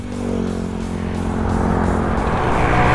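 A Honda LS125 motorcycle pulling away, its engine rising in pitch and loudness over a few seconds with growing road and wind rush, close and steady, no talking.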